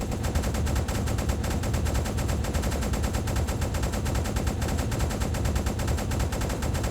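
Rapid, sustained automatic gunfire from a submarine deck gun firing armour-piercing rounds in the game UBOAT, a dense, loud, unbroken rattle of shots that continues evenly throughout with no talking.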